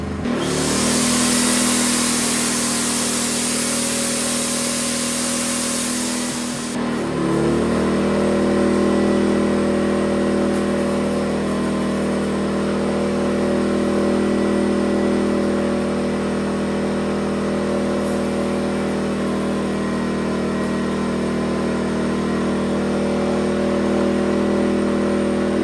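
A Philking PK2300i inverter generator powering a welding machine set around 54 to 55 amps. A rushing, hissing burst gives way to a steady, loud engine drone that holds at a constant pitch for over fifteen seconds, with no talking.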